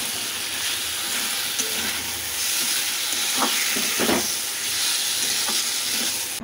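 Chicken and fried potatoes sauté together in a pan with a steady, close sizzling hiss, a few brief stirring scrapes rising partway through.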